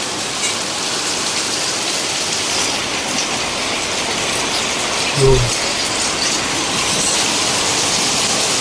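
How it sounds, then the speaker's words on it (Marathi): Steady heavy rain driven by wind pours down in a dense, unbroken wash, with one brief low thump partway through. "जोरदार पाऊस आहे"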